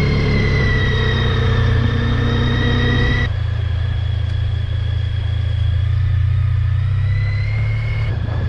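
A car engine drones loud and steady as the driver hits the gas on a road trip through East Texas, a low rumble with a rising whine that shifts pitch partway through, no voices.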